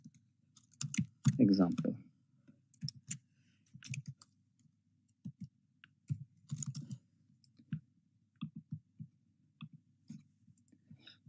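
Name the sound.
computer mouse clicking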